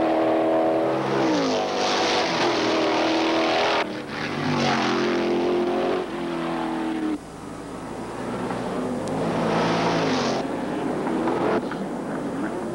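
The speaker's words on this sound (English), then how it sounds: "Driving like a man possessed by the devil, Mark sliced through the field, passing on the inside and outside of corners" A 1972 Porsche 917/10K Can-Am race car screams past at Mosport, its engine roaring loudly through rising and falling gear changes, with several sustained revving passes and brief dips between shifts.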